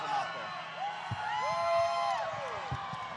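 A lively live-show crowd whoops and cheers on stage for a race between Dale Jr., Bubba Wallace and Michael Waltrip, with rising excited shouts and a few sharp claps, close and energetic.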